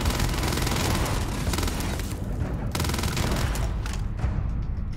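Sustained heavy gunfire in the video game Starfield, dense rapid shots merging into a continuous loud roar for the whole stretch, with brief dips between bursts.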